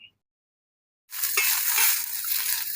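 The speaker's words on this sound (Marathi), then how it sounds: "थोडस तेल टाकून घेऊ खोबऱ्याचे तुकडे भाजून घेऊ कांदा भाजून घेऊ" Coconut pieces and onion hit hot oil in a tawa over a chulha. After a second of silence, a steady close sizzle and frying hiss sets in and continues to the end.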